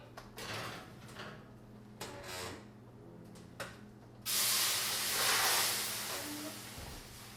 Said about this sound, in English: we'll put water on it to steam it